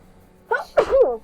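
A single sharp sneeze bursts out close by after a short inhaled buildup, standing alone in an otherwise quiet room during a tabletop role-playing session.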